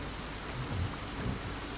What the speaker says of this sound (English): There's the rain from the front.